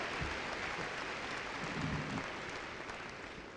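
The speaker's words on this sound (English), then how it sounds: "Moms and dads, you can really applaud that one." Parents and families at a 2018 Air Academy High School graduation applaud, a broad, distant-sounding roar of clapping from a large crowd, steady and fairly faint, tapering slightly toward the end.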